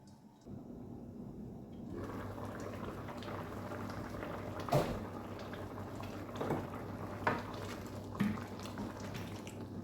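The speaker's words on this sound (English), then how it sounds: "Allow to simmer for 2 minutes." Nigerian assorted meat pepper soup simmers in a pot, giving a steady low bubbling hiss with a few soft pops and clinks, fairly close, with no voices.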